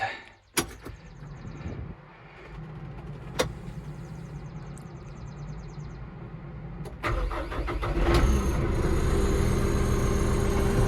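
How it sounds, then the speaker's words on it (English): A tractor engine starts in a vineyard: after a few mechanical clicks and knocks, the motor cranks and catches, then settles into a steady, close, rumbling idle for the rest of the clip. "So first, turning on the tractor, and hopefully you guys can still hear me. It's a little bit loud."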